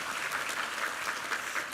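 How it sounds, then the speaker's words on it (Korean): A church congregation claps together during a Sunday worship service, a dense, steady wash of many hands sustained throughout, loud and close with no speech over it. "우리 하나님께 감사와 영광의 박수 올려드리겠습니다."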